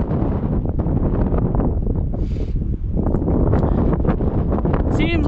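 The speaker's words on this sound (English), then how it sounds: "Seems like the wind has met me on top of the mountain here." Strong gusting wind on a mountain top at North Table Mountain's Lichen Peak, roaring and buffeting right against the microphone throughout with steady loud rumble.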